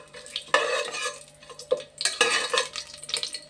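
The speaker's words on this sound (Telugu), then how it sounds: "వేగుతున్నాయి కదండి ఇవి" Food frying in a pan while being stirred, with loud scraping and clanking of a utensil against the metal pan in irregular bursts over a soft sizzle, close by and without voices.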